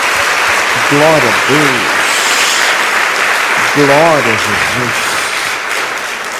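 Church congregation applauding throughout, a steady broadband wash of clapping under a worship leader's loud sung-style exclamations that come in two bursts.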